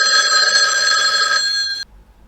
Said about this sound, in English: And why are you receiving phone calls from J. Edgar Hoover?